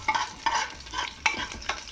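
Garlic sautés in a pan for beef bulalo, a soft sizzle broken by about five rhythmic scraping strokes of stirring.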